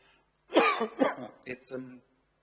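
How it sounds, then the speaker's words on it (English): A few close coughs in a short burst, the last ones breaking off with a throaty, voiced edge. "I'm going to cough"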